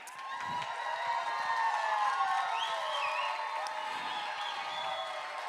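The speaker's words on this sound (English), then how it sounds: "We didn't practice with all this applause" An audience applauding and cheering for dancers at a dinner dance event, a sustained wash of clapping mixed with whoops and cheers, moderately loud and steady throughout with no clear speech.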